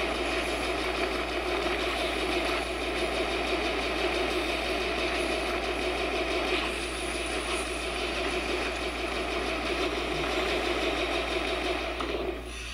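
Steady mechanical engine drone of the Mako, a six-wheeled armored vehicle in Mass Effect, a continuous whirring hum with faint ratcheting texture that holds evenly throughout and fades slightly at the end.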